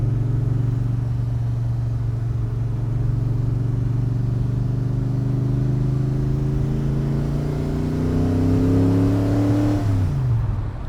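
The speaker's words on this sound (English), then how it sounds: "The engine's right behind you, throbbing away." Ford GT40 V8 engine throbbing steadily while driving, a loud low drone heard from inside that rises smoothly in pitch as it accelerates, then drops at a gear change near the end.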